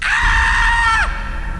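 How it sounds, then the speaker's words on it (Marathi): A woman's scream in a horror story, one long sustained high-pitched cry lasting about a second that breaks off sharply, close and loud over a low rumbling background. "ती पुन्हा एकदा ओरडली,"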